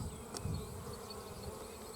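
Honey bees buzz at an open beehive during a frame inspection, a steady soft drone of many insects, close but faint, with no talking.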